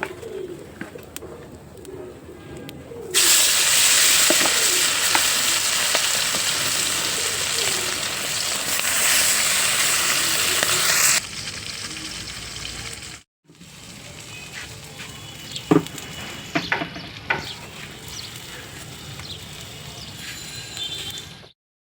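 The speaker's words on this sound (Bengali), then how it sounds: "এই পাশে আমার বেগুনগুলিও ভাজা হয়ে গেছে" Eggplant slices fry in hot oil on a wood-fired stove, giving a loud, dense sizzle for several seconds that then fades to quieter crackles and utensil clatter, while pigeons coo nearby throughout.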